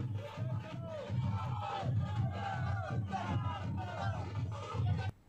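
Dense crowd of party workers gathered on a road in Balod, Chhattisgarh, chanting and shouting slogans in a steady rhythmic roar, close and sustained, with voices overlapping throughout.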